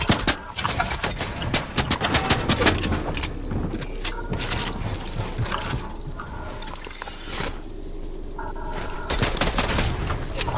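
Rapid bursts of automatic gunfire spray in a Fortnite match, dense overlapping volleys filling the scene almost without pause, with mechanical clicks and impacts mixed in.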